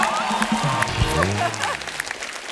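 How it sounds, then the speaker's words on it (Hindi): A studio audience on the TV comedy show The Kapil Sharma Show applauds with loud, continuous clapping, with some cheering and music over it. "तालियां जोरदार होनी चाहिए."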